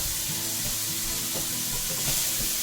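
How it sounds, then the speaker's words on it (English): Lamb meat searing in a stir-fry pan gives a dense, continuous sizzle, loud and close, with faint stirring and no talk over it. "getting some good sear on the meat here"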